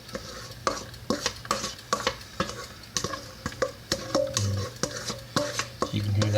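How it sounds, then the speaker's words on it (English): Corn broken into melted butter in a pan over moderate heat is stirred, giving a steady soft sizzle under rhythmic scraping and clinking of a utensil against the pan, close and fairly quiet with no talking. "And you can hear that butter on the bottom of the pan."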